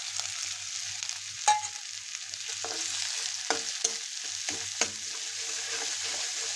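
Turmeric and red and black chili powder frying in hot oil for a ridge gourd dish, with a quiet, close sizzle and a few sharp clinks and scrapes of a spoon against the pan.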